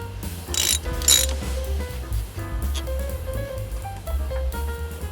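A ratchet wrench clicks in quick bursts with short pauses while loosening the steering coupler on an old Chevy truck, the pawl ticking close and crisp with no talk.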